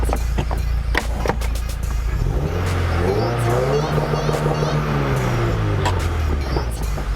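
A 2015 Subaru WRX engine revs in a rising sweep toward redline, then drops and climbs again as flat foot shifting is tested, loud and close with a steady underlying rumble and brief clicks.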